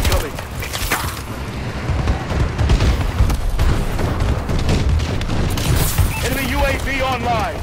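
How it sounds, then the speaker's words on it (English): Bombing run explosions in Call of Duty Advanced Warfare multiplayer, a dense, continuous roar of booms and crackling blasts, with in-game voice announcements layered over the chaos. "Friendly bombing run incoming."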